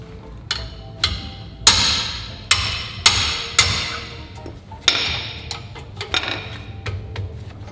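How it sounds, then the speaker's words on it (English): Sharp metallic hammer blows on suspension nuts of an R32 Nissan Skyline ring out one after another at an irregular pace, each strike loud and close with a brief ringing decay. "That's where a hammer comes in handy."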